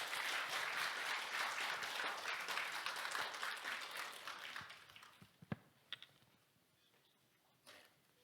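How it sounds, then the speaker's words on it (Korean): A church congregation applauds to welcome the pastor at a Sunday service, dense sustained clapping for about five seconds that then thins to a few scattered claps and quiet. "다시 한번 박수로 환영해서 우리 목사님 모시겠습니다"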